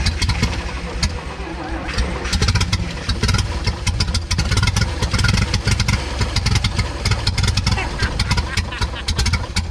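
A vintage Scoopmobile loader's engine cranks and catches, running roughly in a loud, continuous mechanical rumble with sputters throughout, while people talk over it.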